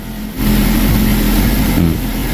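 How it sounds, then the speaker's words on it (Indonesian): A car engine starts and runs steadily, a loud continuous mid-to-low hum filling the clip while the brake pedal is checked on a car with a sinking, failing brake. "Kita nyalakan dulu mesinnya. Nah, ini mesin udah dinyalakan ya teman-teman."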